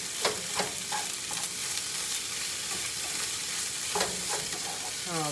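Thawed spinach folded into a hot, sizzling dish, with steady frying hiss under repeated stirring scrapes and clinks of a utensil against the pan, no voices.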